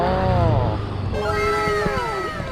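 A cat meows a couple of times over steady background rumble like passing traffic, with drawn-out, rising and falling cries.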